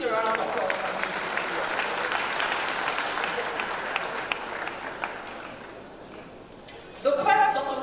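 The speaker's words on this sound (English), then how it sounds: "Please a round of applause for him." An audience at a democracy dialogue event applauds the Governor, steady clapping that fades toward the end before a speaker's voice resumes.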